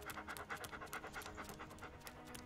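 Up close, a dog pants in a quick, steady rhythm of short breaths, with nothing else around it.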